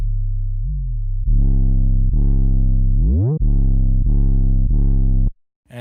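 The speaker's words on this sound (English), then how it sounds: "Decapitator, you can really push it into distortion, or you can add some really nice harmonics" 808 bass pushed into distortion with the Decapitator saturation plugin, a loud, buzzing low tone playing a short pattern of sustained notes with sliding pitch drops, then cutting off abruptly.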